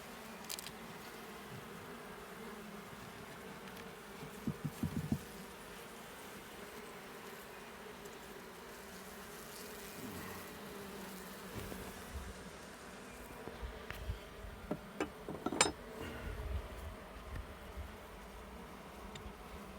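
Honey bees buzz softly inside a Lambrecht hexagonal deep flex-hive during an open inspection, a steady low hum with a few brief, closer flurries of louder buzzing.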